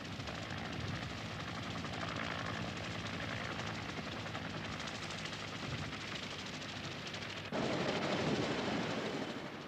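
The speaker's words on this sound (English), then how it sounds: "Each chopper takes an hour to reach the evacuation fleet." A helicopter flies during the Saigon evacuation with a steady, dense rotor thump and engine roar throughout, swelling slightly louder near the end, with no voices.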